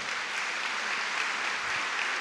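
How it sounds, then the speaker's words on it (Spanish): A dense, steady wash of audience applause fills the room evenly from start to finish, loud and unbroken with no voices standing out. "Si vas a aplaudir, apláudele al Señor"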